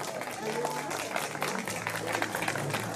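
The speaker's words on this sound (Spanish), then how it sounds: "El aplauso para recibir al doctor de Salazares, el doctor Samuel Terríquez." Audience applause welcoming a guest at a mariachi event, a steady wash of clapping with faint voices and tonal murmurs mixed underneath.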